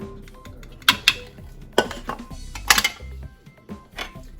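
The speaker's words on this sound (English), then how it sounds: "We're just going to stir it in." Spoon clanking and scraping against a mixing bowl while flour and cinnamon are stirred into oatmeal cookie dough, a series of irregular close knocks and clinks with soft mixing between them.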